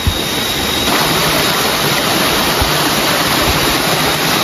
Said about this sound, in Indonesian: Air terjun tinggi ya.